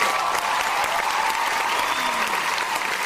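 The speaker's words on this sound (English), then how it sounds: "we are going to make sure that we have some clapping for that" Canned applause sound effect played over a live esports stream for a Natural Selection 2 match, a steady burst of crowd clapping lasting throughout, with faint voices underneath.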